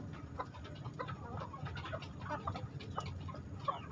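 Kampung breeding hens clucking softly in a small home flock, scattered murmuring clucks at close range over a low, steady background hum.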